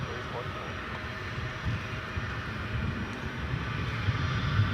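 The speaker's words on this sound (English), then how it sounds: "Takeoff 18 left, American 2851." American Airlines airliner, flight 2851 bound for San Antonio, taking off from runway 18 left at Dallas/Fort Worth airport at night, a steady broad engine roar building slowly, distant and continuous with light wind noise.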